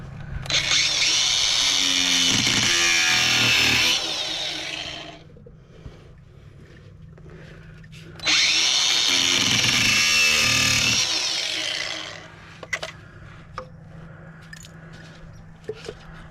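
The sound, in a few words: power tool cutting a clamp on Volvo 740 steering rack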